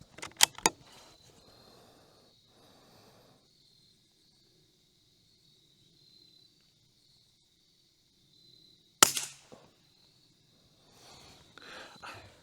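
A rifle fires once through an Athlon Ares BTR Gen 3 4.5-27 scope at short range: one sharp, loud report near the end. Earlier there are faint clicks and handling noises over a steady insect buzz.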